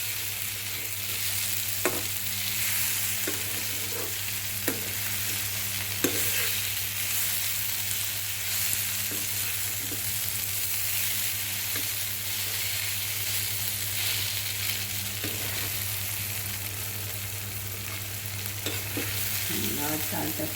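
Rice fries in a pan for cauliflower ghonta, giving a continuous close sizzle with occasional light stirring scrapes and clicks, steady and alone without voices.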